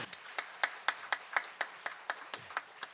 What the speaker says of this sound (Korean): 우리 한번 축복의 박수 하도록 하겠습니다